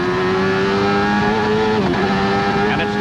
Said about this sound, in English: You can hear Mansell's car hit the ground.